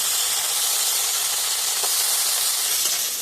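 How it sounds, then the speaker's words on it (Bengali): Chopped vegetables fry in hot ghee in a wok, giving a continuous loud, even sizzle with a faint scrape of stirring partway through. "এবার এর মধ্যে আমার কুচোনা সবজিগুলো দিয়ে দেবো।"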